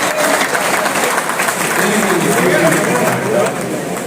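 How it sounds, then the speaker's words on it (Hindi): An audience at an Indian National Congress party gathering in Kathua claps in a dense, loud, continuous burst of applause mixed with crowd noise, easing slightly at the end. "तालियां बजाकर"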